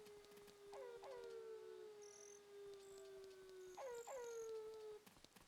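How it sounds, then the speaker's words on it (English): Small dogs in Ocarina of Time let out long sustained howls, one drawn-out wail followed later by two rising howls, loud and close with no talking. "That's surprisingly big noise coming from such a small dogs."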